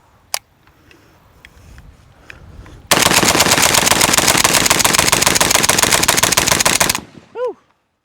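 A prototype 24mm UNRIV muzzle brake on an AK rifle fires one long, loud, sustained automatic burst of rapid shots. A few sharp single cracks come before it, and the burst cuts off abruptly, followed by a brief whistling tone.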